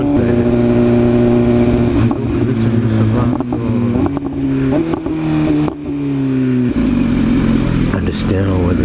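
A small orange car zooms along beside a BMW S1000RR superbike and BMW M4, its engine note shifting steadily as it accelerates, loud and close, with the drone of another engine and wind noise underneath.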